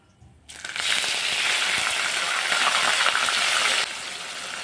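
Onion paste hits hot oil seasoned with whole cumin and two bay leaves for a bottle gourd kofta curry, setting off a loud, steady, close sizzle that starts abruptly and holds for about three seconds before easing slightly.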